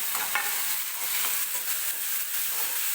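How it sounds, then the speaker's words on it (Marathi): Chopped tomato frying in hot oil with onion for a Marathi cauliflower and green pea bhaji, a steady close sizzle with a few brief stirring scrapes and no talking. "टोमॅटो सुद्धा व्यवस्थित मऊ होईपर्यंत आपल्याला भाजून घ्यायचा आहे तेलामध्ये"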